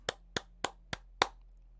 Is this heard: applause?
yes